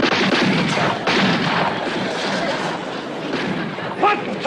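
A volley of gunfire goes off after a firing command in a TV sitcom, with loud, dense blasts that stay steady over several seconds, then a brief sharp burst near the end.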